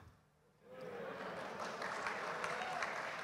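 An audience breaks into applause after a short quiet start, the clapping swelling quickly and continuing steadily at a moderate distance.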